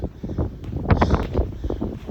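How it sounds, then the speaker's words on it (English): Strong gusts of wind in a Buffalo blizzard buffet the microphone in loud, rough, uneven bursts of rumbling noise, close and continuous through the whole stretch. "you can see that wind gust"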